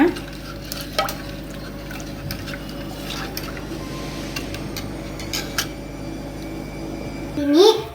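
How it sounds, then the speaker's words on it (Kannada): Salt is stirred into a watery raw mango nirugojju mixture with soft sloshing and scraping close by, and a brief louder scrape at the end. "ರುಚಿಗೆ ತಕ್ಕಷ್ಟು ಉಪ್ಪನ್ನ ಹಾಕ್ತಾ ಇದ್ದೀನಿ ನೋಡಿ ಇದನ್ನು ಚೆನ್ನಾಗಿ ಮಿಕ್ಸ್ ಮಾಡ್ಕೊಳ್ಳೋಣ"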